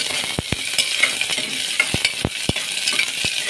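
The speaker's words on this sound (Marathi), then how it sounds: "कांदा चांगला लाल होऊन देणार आहोत आपण" Onion frying in a ladleful of hot oil for a chicken gravy, a continuous loud sizzle broken by repeated sharp scrapes and clinks of a spoon stirring against the pan, no voices.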